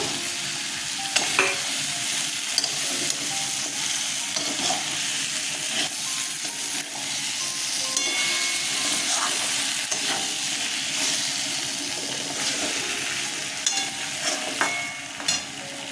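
Potatoes fry with drumstick pieces in a hot pan for a mustard chorchori, giving a steady, moderately loud sizzle with frequent scraping and clinking of a spatula stirring throughout, and no voices.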